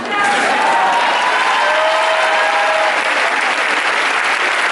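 A packed audience at a film premiere applauds the cast in loud, dense, steady clapping with faint cheers and whistles on top, sustained throughout.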